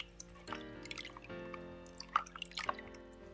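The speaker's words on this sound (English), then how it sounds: "I wash the eggplants. Then I wash the pea eggplants also." Eggplants and pea eggplants rinsed under running water, soft drips and splashes with a light trickle, quiet and close.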